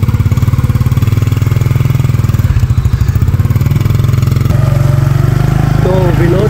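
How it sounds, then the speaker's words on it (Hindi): A motorcycle engine runs close by on the ride to Combe Market in Paramaribo, Suriname, a steady low throbbing putter with slight variations, loud and continuous, with no speech. "अब हम लोग मोटरसाइकिल पे निकल पड़े हैं"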